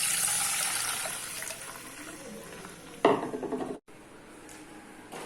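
Water is poured into a pan of sautéed onions for wheat rava upma, giving a sudden hissing splash and sizzle after a steady background fry. A clatter follows, then an abrupt cut.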